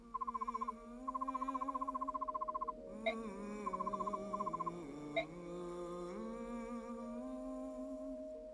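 A heron in the Fire Emblem Radiant Dawn video game: a synthetic, warbling tonal call with bursts of rapid repeated chirping notes and two sharp accents, over a low steady hum.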